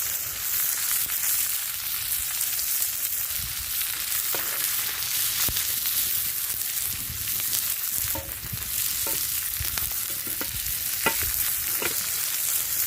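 Fish on a banana leaf fries in oil with a continuous crackling sizzle that holds steady and close, broken now and then by faint taps and shifts, with no voices.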